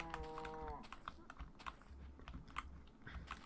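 A cow lowing in the Minecraft video game, a single synthetic moo at the start, followed by soft clicking and game sounds over a low background rumble.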